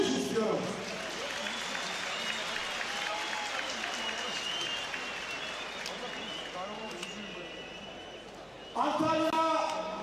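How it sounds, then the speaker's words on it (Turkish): A large crowd claps steadily for the head wrestlers at the Kırkpınar oil wrestling semifinal, the applause sustained and dense throughout with an announcer's voice and crowd noise over it, swelling louder near the end. "Başpehlivanlarımıza şöyle yarı final salavat öncesi kocaman bir alkış istiyorum"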